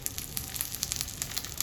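Ivy gourd, potato and green chilli sizzle steadily in hot tempering oil, a close, continuous crackling frying sound with small pops scattered throughout and no voices.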